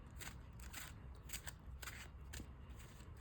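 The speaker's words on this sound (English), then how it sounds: "Shuffle this blue deck real quick." A deck of trading cards is shuffled by hand at a table, giving quiet, faint bursts of riffling and flicking in a quick, uneven rhythm with no talk.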